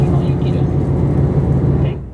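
Uzushio No. 3 limited express departing Takamatsu Station, a steady low diesel rumble and rolling hum heard from aboard, easing off toward the end.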